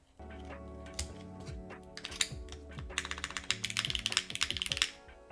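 Keys clatter on an 1800-layout mechanical keyboard fitted with a Cherry spacebar switch, starting with slower, spaced presses and deeper thocks, then speeding into a fast burst of crisp typing before stopping. The sound is close and there is no talking.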